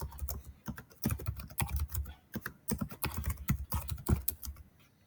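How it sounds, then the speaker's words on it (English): Computer keyboard typing in quick, uneven bursts of close key clicks with short pauses between runs, alone without talk. "we're going to type in other words"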